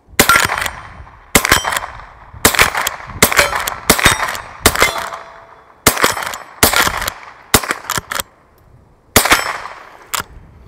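A 1959 Marlin 39A .22 rimfire lever-action rifle fired fairly quickly, about a dozen sharp cracks spaced roughly a second apart, loud and close with short ringing tails between shots.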